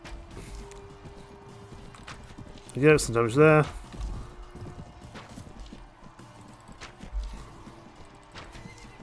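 A horse in Mount and Blade Warband gives a sharp, loud whinny lasting under a second amid hoofbeats and battle noise, while someone talks over the scene.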